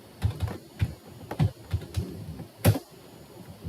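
Computer keyboard typing with a backspace key press: a run of light, irregular key clicks close by, one sharper tap standing out near the end.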